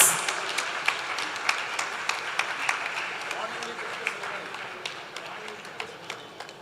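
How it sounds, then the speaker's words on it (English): Audience at a community meet applauding an honoured guest, with sustained clapping and sharp individual claps that slowly fade, and voices underneath. "A big round of applause."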